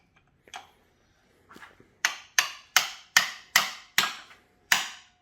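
A hammer strikes a cold chisel against a stuck injector on an LLY Duramax engine during teardown: a few soft taps, then seven sharp ringing metallic blows in a steady rhythm, close and loud.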